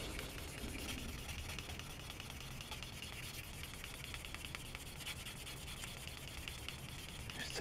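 Fine-grit sandpaper rubs steadily on a small plastic part of a Tamiya 1/12 Yamaha YZR-M1 model kit, a close, continuous soft scratchy rasp with no pauses.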